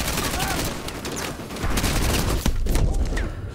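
The Badger AI unleashes rapid, sustained gunfire in Modern Warfare 2 Remastered, a dense burst of close, overlapping shots with heavier impacts near the end and a voice faintly audible beneath the din.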